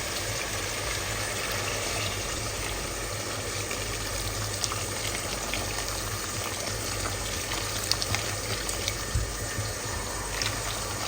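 Hot water pouring into a cooking pot of potatoes with onion, ginger and garlic, a steady broadband rush of liquid running continuously throughout at moderate level, with no talking.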